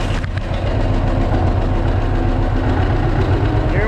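A John Deere 520 tractor engine runs steadily close by, a loud continuous low rumble with a lumpy idling rhythm and no speech.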